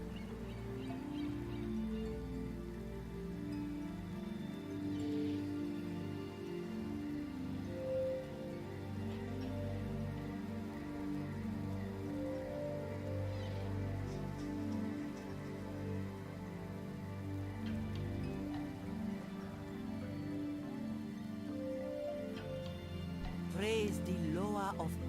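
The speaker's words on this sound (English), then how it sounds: "It be raining, man." Steady rainfall patters across the landscape of World of Warcraft, a soft, continuous wash of drops that is faint and unbroken throughout, with a bird call or two audible faintly behind it.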